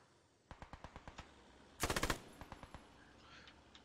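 Machine-gun fire from the Post Scriptum game, with short spaced bursts of distinct shots, then a louder dense burst in the middle and several more separate shots after it.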